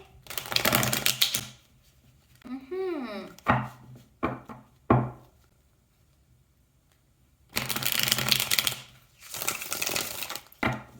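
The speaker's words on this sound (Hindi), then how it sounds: "तो चलिए शफल कर लेते हैं वृषभ राशि टेरस साइन के लिए" A deck of tarot cards is shuffled in several quick, crisp bursts, close up. Quiet pauses separate the shuffles, and a brief vocal sound comes in between.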